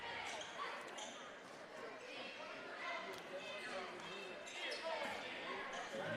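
A basketball bounces on a gym floor during a boys' high school game, repeated dribble thumps with squeaks and crowd noise, all under a commentator's play-by-play.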